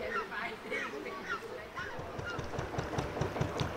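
A goose honks repeatedly by the Leeds & Liverpool Canal near a narrowboat, harsh calls that fade in and out under continuous talking and a low engine rumble.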